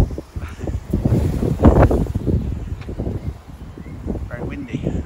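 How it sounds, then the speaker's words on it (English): Gusty wind buffets the microphone with low rumbling bursts while a person talks over it outdoors at a plant nursery. "very windy"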